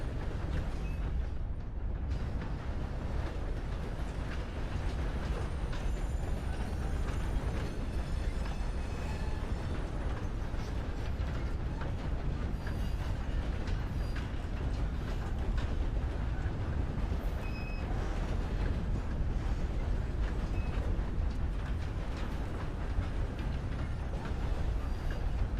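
Steady rumbling train roll heard from inside a caboose in the WildRP western game, a continuous dense low rumble with faint metallic squeals and clatter, no talk.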